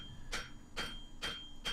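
A hammer strikes a railroad spike being forged, shaping the transition between square and round sections: four evenly spaced, fairly quiet metallic blows with a faint ringing tone between them.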